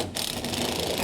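A ratchet turning briefly while screws are unfastened to remove a side panel, giving a close, continuous mechanical clicking whir.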